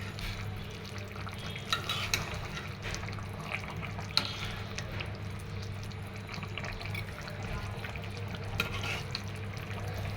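Fish pieces slipped into a simmering potato curry in a pan, a quiet bubbling sizzle with soft scattered clicks and stirring sounds continuing steadily, no talking.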